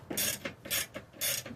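A hand ratchet clicks in repeated bursts while tightening a 7/8 inch bolt on a 1964 Bobcat M444 skid steer, three loud, evenly spaced strokes with softer return clicks between them, heard up close.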